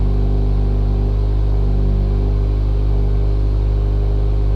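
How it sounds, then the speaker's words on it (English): A 10th-generation Honda Accord 2.0T engine runs steadily after a low-pressure fuel pump install, a constant low rumble without revving and no voices. "you should be able to start it right up. And then you're gonna let it run."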